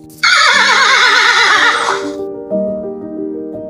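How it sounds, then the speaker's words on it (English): A horse gives a loud, close whinny lasting about two seconds, its wavering pitch falling off, with a soft musical backing continuing underneath and after. "Horse."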